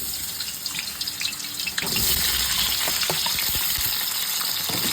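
Potatoes sizzle and crackle in a hot pan, growing louder partway through as more goes in, with scattered pops and spatters throughout.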